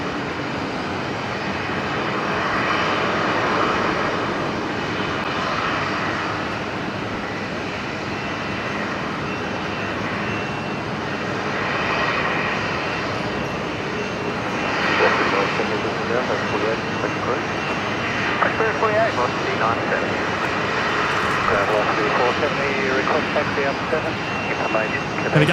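Velocity jet, flight 342, departing Brisbane airport for Melbourne at twilight, a sustained jet engine roar rising and falling over nearly half a minute, moderately distant, with people talking over it.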